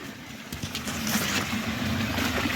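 A 3 HP Shakti solar water pump runs steadily, giving a continuous motor hum under a broad rush of pumped water that holds fairly even and grows slightly louder throughout.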